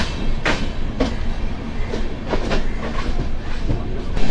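The 13168 Kolkata Express rolls out of Dhanbad station, its wagons rumbling loudly nearby with rhythmic clickety-clack wheel beats over a continuous heavy rail drone.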